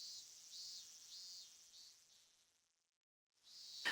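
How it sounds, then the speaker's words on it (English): Cicadas drone in a summer scene from the visual novel Higurashi, a faint, high, pulsing buzz that swells and fades in waves, drops to near silence, then resumes with a soft click at the end. "The cries of the cicadas surrounded around me"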